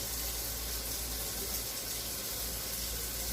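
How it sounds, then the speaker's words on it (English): Water pours steadily from a cup into a pizza dough mixture for breakfast cupcakes, a continuous close splashing gush that holds even throughout with no speech. "I'm going to put in 1 cup of water in here"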